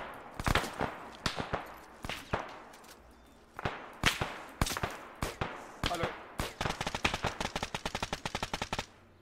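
Sharp gunshots crack out in irregular bursts during a shooting training exercise, ending in a rapid string of fast shots, loud and close.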